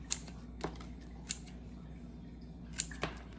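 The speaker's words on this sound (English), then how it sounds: "So I'm just gonna cut between the nodes." Sharp scissor snips cutting between the nodes of plant stems for propagation cuttings, five crisp clicks spread irregularly over a steady low hum, close and fairly quiet.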